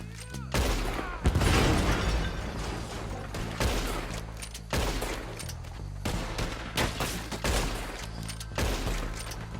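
Red Dead Redemption II gunfight: dense, loud volleys of rifle and pistol fire crack in rapid succession with booming reports, near and continuous across the scene, with faint background shouting.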